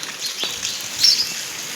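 Light rain falling outdoors during a day of a motorbike road trip, a steady soft hiss with scattered pattering drops and one brief louder burst; no voices.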